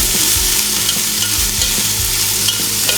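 Chopped tomatoes stirred in a hot pan, a dense close sizzle with repeated scraping strokes of a spoon, no voices.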